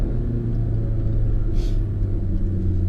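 A Volkswagen MK7 GTI running a Cobb Stage 3 tune with a catless downpipe accelerates on a rough road under construction, giving a steady, loud low rumble of engine and exhaust with a brief hiss of air midway.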